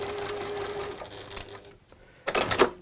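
A sewing machine stitches a fabric seam in a faint, steady whirring run nearby, stops partway through, then gives a short louder burst near the end.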